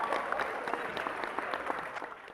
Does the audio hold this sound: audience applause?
yes